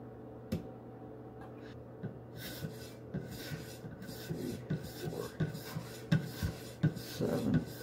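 Knife strokes on an 8K Shapton sharpening stone, a soft repeated rubbing rasp with small clicks, building into a steady run of strokes near the end, close and fairly quiet.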